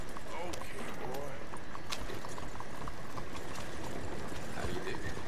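Horse hooves clip-clopping at a steady trot in the video game Red Dead Redemption 2, continuous and close amid ambient game noise, with voices talking over it.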